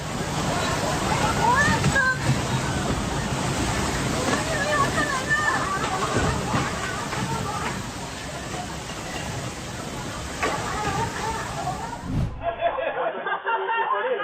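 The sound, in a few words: water gushing from a ruptured underground water line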